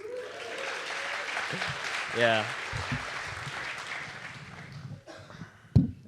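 An audience at a React Native conference talk applauds with a steady wash of clapping that swells briefly and then fades. A voice speaks over the applause and there is a sharp knock near the end.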